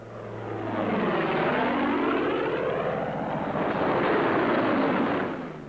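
Thunderbolt fighter planes come in low to land with a loud, close propeller-engine roar that swells, sweeps past and holds for several seconds with no voices.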